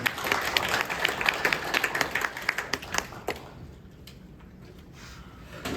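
Audience applause at a Korean National Assembly infrastructure forum as a lawmaker arrives: dense clapping from a seated crowd for about three seconds, then thinning to a few scattered claps before fading out.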